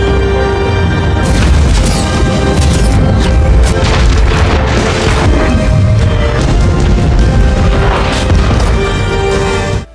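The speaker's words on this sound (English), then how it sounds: "Finally, with one swift, powerful flight maneuver, Carol single-handedly obliterated an entire battleship." A destroyed battleship erupts in a massive explosion, a loud sustained roar of booms and crashing debris rumbling continuously for about ten seconds before cutting off abruptly, with no talking.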